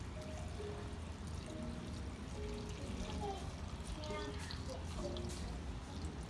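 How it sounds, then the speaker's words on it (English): Hot water pours and trickles into jars for cold-pack canning of green beans, a quiet, steady splashing with dripping, heard close and faint. "Add hot water."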